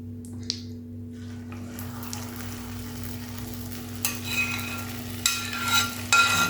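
Hot unsweetened cream is poured into homemade caramel, which sizzles steadily while a spoon stirs the pot. The sizzle stays soft and close, with a few sharper scraping bursts near the end and no talking.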